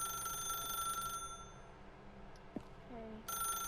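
A telephone in The Stanley Parable rings insistently, a bright electronic trill that drops out for a stretch, followed by a faint thud, and then starts ringing again.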